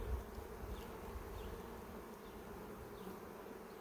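Honey bees buzz steadily on a frame of honey inside a nuc hive, a continuous close hum with no voices over it.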